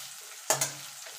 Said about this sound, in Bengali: এবার পেঁয়াজটা একটুখানি ভাজা ভাজা করে নেব।